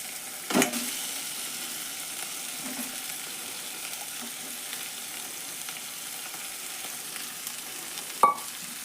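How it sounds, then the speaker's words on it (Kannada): Boiled, mashed potatoes go into a hot tempering in oil for aloo methi puri, hissing in a soft, even sizzle, with a couple of sharp utensil clinks near the start and end. "ಈಗ ನಾನು ಬಟಾಟೆ ಕುದಿಸಿ ಸಣ್ಣ ಮಾಡಿಟ್ಟಿನಲ್ರಿ ಇದನ್ನು ಇದನ್ನು ಒಗ್ಗರಣೆಗೆ ಹಾಕೋತೀನಿ ನೋಡ್ರಿ"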